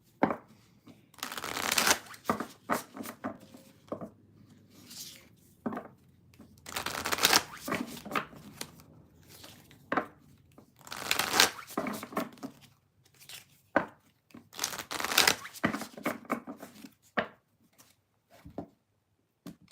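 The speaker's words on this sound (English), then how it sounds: "I'm going to read the chat and shuffle" Tarot cards are shuffled over and over at close range, with repeated riffling bursts separated by brief pauses and soft handling noises.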